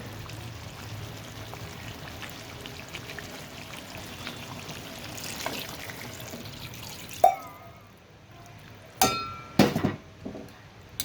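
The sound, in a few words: water poured into pot of cooked chicken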